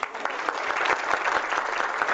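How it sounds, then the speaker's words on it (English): An audience claps for a poet at a lecture gathering, a steady round of applause filling the short stretch at moderate loudness with no voices standing out. "how about another big round of applause for our poet?"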